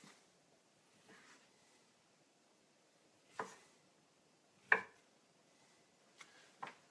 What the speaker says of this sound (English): I'm going to cut my sausage on the bias.